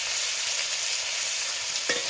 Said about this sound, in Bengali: একটু আলুকে ভেজে দিচ্ছি, একটু নুন দিয়ে ভেজে নিতে হবে আলুকে